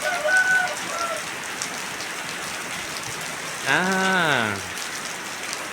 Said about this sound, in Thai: ฝนตกแล้วฝนตกแล้ว พี่น้องฝนตกแล้ว แรงเลยพี่น้องนี่อ่า